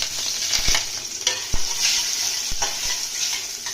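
Garlic and dried red chillies crackle and sizzle in hot oil for a tempering, a bright continuous hiss with a few sharp knocks and taps from a utensil against the pan, heard alone without talk.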